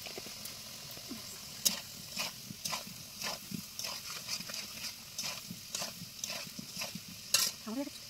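Potatoes fry in a pan at home while being stirred, with repeated scraping strokes and a low background sizzle; brief voices murmur now and then.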